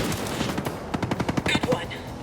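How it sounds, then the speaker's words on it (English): Gunfire from a sniper engagement in Ghost Recon Breakpoint on PS5: a rapid run of sharp shots cracking in quick succession, with a few louder reports near the end and faint talk underneath. "Sniper fire incoming."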